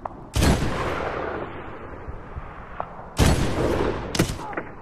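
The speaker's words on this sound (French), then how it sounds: "Obus en approche." Incoming artillery shells and gunfire rumble in the 2010 Medal of Honor game set in the mountains of Afghanistan, with heavy booming blasts at the start and near the end, each decaying into a rolling roar, plus scattered shots.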